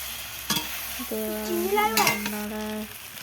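Sun-dried elephant apple stirs and sizzles in hot oil in a wok, a steady frying hiss with spatula scrapes close up and no voices.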